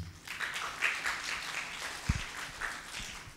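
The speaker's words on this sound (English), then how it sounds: "we have clapped enough" Audience applause for a speaker taking the stage at a scientific pharmacogenomics conference talk: a soft, steady patter of many hands clapping in a hall, moderately distant, with a faint voice briefly heard.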